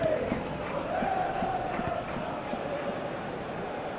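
A large football crowd roars steadily through the Real Betis versus Chelsea Europa Conference League final in 2025, a dense, continuous wash of voices at constant loudness with no break.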